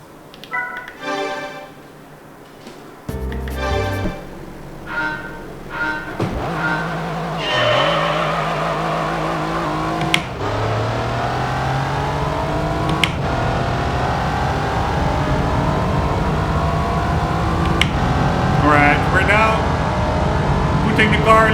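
Race car engine in Gran Turismo 3, revving hard with rising and falling pitch and gear shifts, then holding a loud, sustained high-rev drone with occasional tire squeal.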